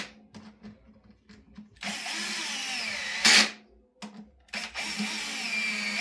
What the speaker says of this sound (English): And we'll go through and torque them to spec.